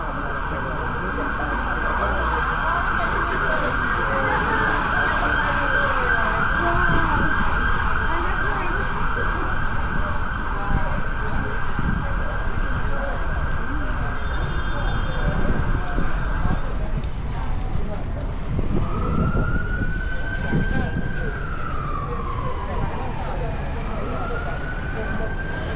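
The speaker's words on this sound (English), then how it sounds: "Oh, that's an ambulance." A passing ambulance on a street in Mosta, Malta wails with a loud, steady siren tone that later shifts into rising and falling sweeps, heard over street noise while people talk nearby.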